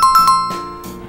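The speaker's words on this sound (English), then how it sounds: "Don't forget to ring the bell." A notification bell sound effect rings out as a few quick bright dings, then a lower chime, loud and close with nothing else around it.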